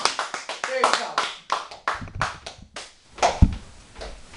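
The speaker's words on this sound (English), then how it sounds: "give a warm round of applause for this man right here" Students at a biology class event clap in a scattered, uneven burst, with individual hand claps standing out close by, while voices and chatter mix in over the applause.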